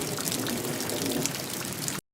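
Rain falls steadily outdoors, a dense even patter of drops close by that continues unbroken for about two seconds, then cuts off abruptly.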